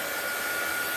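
A hair dryer blows steadily and loudly at close range over a freshly painted art journal piece, a constant airy whoosh with a faint high whine.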